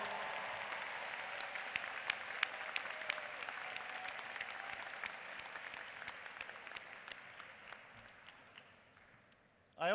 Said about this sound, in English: let's give our families and friends a rousing round of applause